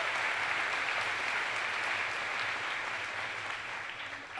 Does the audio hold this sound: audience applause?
yes